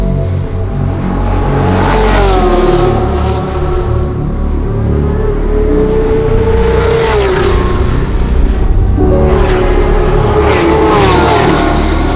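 A Ferrari 458 Challenge race car on a circuit, its engine loud and close as a steady high-revving howl that rises and falls with gear changes, dense and continuous throughout.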